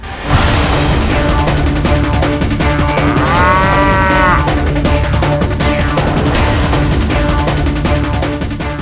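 A buffalo lets out a long, loud moo with a rising then falling tone, heard over a dense, steady wash of background music and ambience.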